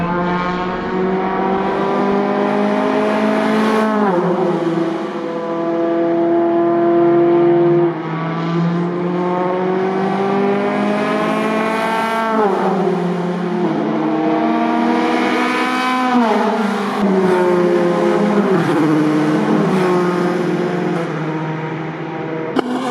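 Westfield race cars on a warm-up lap at a French car show, their engines revving steadily and rising and falling through gear changes for the whole stretch, loud and close with no talking.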